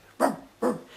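A dog gives two sharp, separate barks about half a second apart, close and fairly loud against a quiet background.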